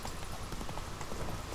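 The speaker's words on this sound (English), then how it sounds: "Where's my horse? Where's my trusty steed?" Horse hooves clip-clop in quick, steady steps in The Witcher 3: Wild Hunt video game. The rhythmic gait plays fairly faint and close with no talk over it.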